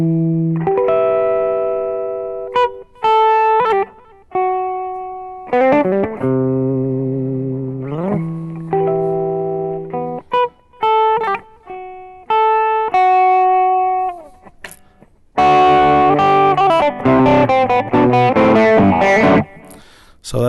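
An electric guitar plays a lead lick from a rock song through an effects unit with distortion, single notes ringing and gently rolling off between short gaps. The playing turns into a denser, brighter run near the end, with no speech.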